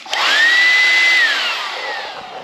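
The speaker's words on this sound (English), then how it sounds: "This is that little blower I was telling you about." A small electric blower whirs up to speed with a rising whine, holds a steady high hum close by, then winds down as it is switched off, with no voices.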